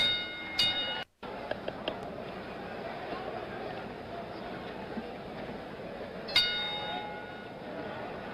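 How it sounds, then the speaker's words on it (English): A boxing ring bell marking round 7 of George Foreman vs Jimmy Young rings in two sharp, bright strikes several seconds apart, over a commentator's voice and arena crowd noise. "The bell for round 7."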